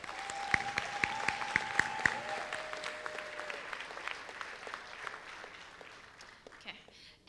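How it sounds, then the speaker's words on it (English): Audience at a 2023 local hero awards ceremony applauding finalists, a fairly soft, scattered clapping from a modest crowd heard at some distance in a reverberant hall, with tones and sustained musical notes sounding early and fading out. "can we just give our amazing local hero finalists for 2023 a round of applause?"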